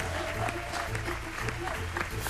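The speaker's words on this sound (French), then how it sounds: "je vous propose quand même à tous d'applaudir" Studio audience at a French game show applauding the contestant, a steady crowd clapping over a rhythmic musical beat.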